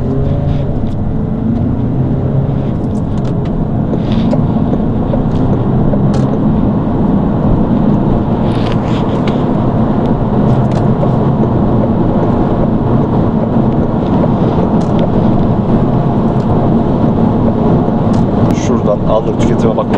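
Citroen Berlingo XTR pulling away from a standstill at full throttle, a steady loud engine drone with broadband road and wind roar that holds constant throughout.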